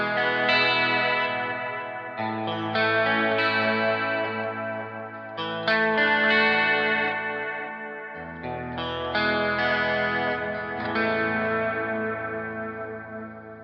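Zoom G3N multi-effects patch on electric guitar with the original Dreamworld settings, giving a chorused, echoing tone. Sustained chords ring out under heavy modulation and reverb, shifting roughly every few seconds, loud and continuous with no talking.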